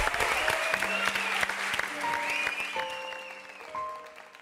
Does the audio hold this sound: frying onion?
no